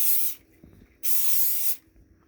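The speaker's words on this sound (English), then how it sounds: "And we're going to spray the top as well." Two separate bursts of aerosol cooking spray coated over pizza dough sitting in bowls, each hiss lasting under a second, close and fairly loud, with a quiet pause between.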